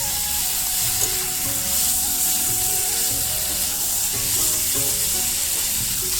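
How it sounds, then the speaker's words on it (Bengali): Soybean chunks frying with spices in a pan for a soybean curry, a steady close sizzle with stirring scrapes throughout, no voices. "সবিনটাকে আমি কষে নেবো মশলার সঙ্গে ভালো করে"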